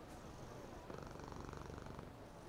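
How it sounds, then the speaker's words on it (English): A black and white cat sitting on a wall purrs softly, a steady low rumbling drone that stays faint and continuous throughout. "purring softly"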